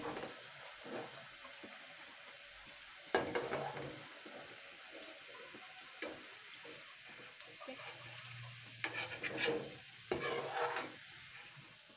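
Rice-flour sitabhog sweets fry in plenty of oil in a pan. A faint, low sizzle is broken by occasional clinks and scrapes of a slotted spoon lifting pieces out, quiet and close.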